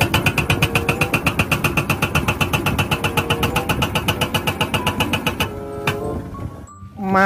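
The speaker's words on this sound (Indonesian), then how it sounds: "Ekskavator pemecah batu." A rock-breaking excavator, likely a toy, pounds in a fast, steady train of loud mechanical hammering pulses over an engine drone, then the rhythm stops and a few scattered clanks follow.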